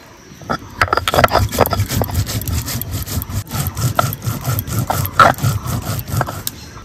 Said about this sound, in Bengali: আমি এদিকে মশলা বেটে নেব, জিরে,